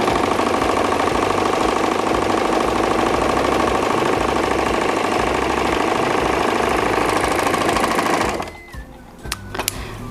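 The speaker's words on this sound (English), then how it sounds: "lower the foot and start sewing" A Bernette Airlock B64 overlock machine sews a flatlock stitch with a steady, fast, close whirring hum that runs for about eight seconds, then stops abruptly and leaves a few faint clicks.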